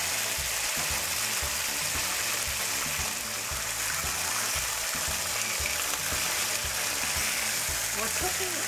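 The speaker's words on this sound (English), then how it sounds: "Add your seasoned scallopini to your skillet." Seasoned veal scallopini sears in a hot skillet, giving a steady, close frying hiss with crackles throughout, and no one speaks over it.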